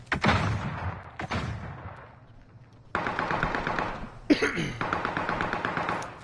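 Shooter video game gunfire comes in sharp cracks and short rapid bursts, some echoing as if distant sniper shots, separated by brief quieter gaps.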